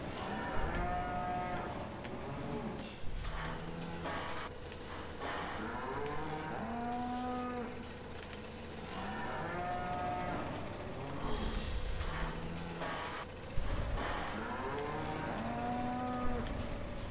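Cattle moo in the Farming Simulator 15 video game, several long drawn-out lows repeating every few seconds over a steady mechanical engine drone from farm machinery.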